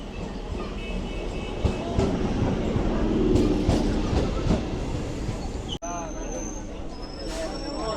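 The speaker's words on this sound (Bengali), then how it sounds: "তো ট্রেন চলে এসেছে" Passenger train pulling into a station, its steady rumbling wheels and clattering carriages filling the foreground, with a sharp hiss and high whistle-like tones near the end; people talk in the background.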